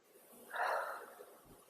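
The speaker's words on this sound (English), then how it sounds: "I can hear my dog snoring." A sleeping dog gives a single soft snore, a brief breathy snort rising and fading over about a second, faint against a quiet room.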